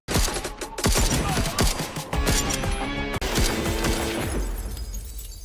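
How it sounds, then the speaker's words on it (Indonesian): Gunfire rings out in an action film scene as a man shoots at a gang's henchmen: rapid, dense volleys of loud shots crackle close together for several seconds, with no talk. "Untung dia tak mati dan segera bangkit menembaki anak buah Sekar Babu"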